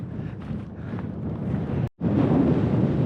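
Blustery wind on the Isle of Skye ridge buffets a microphone in a steady low roar, cutting out for an instant before resuming just as strongly.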